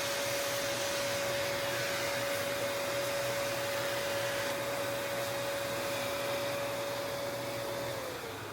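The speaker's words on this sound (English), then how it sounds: "Alright, we got the fender sanded." A 1969 Pontiac GTO fender being sanded, a steady loud power-sander whir with a constant tonal hum that holds for several seconds and then winds down at the end.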